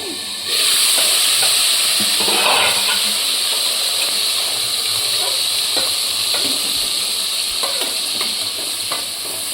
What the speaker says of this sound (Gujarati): હવે આપણે અડધી ચમચી જેટલી હિંગ નાખીશું અને આપણે આ ગ્રેવી બનાવી હતી એ નાખીશું